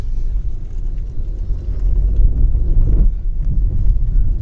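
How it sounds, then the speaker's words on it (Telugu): A Skoda Rapid sedan driving during a suspension test, a loud continuous low road rumble with wind buffeting and occasional thumps from the chassis, heard from inside the cabin. "సస్పెన్షన్ టెస్ట్ అయితే చేస్తాను"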